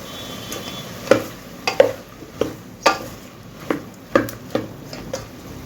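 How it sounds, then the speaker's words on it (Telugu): Turmeric and chili powder are stirred into eggplant frying in a pan for brinjal dal, with a soft sizzle under repeated scraping clinks of a spoon against the pan, about one every half second, and no talking. "ఇప్పుడు శుభ్రంగా కలుపుకోవాలి."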